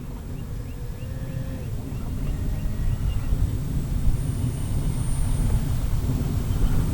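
An E-flite CZ T-28 RC model airplane flies at a distance, its electric motor a steady faint drone with some wind rush, holding level throughout with no one speaking.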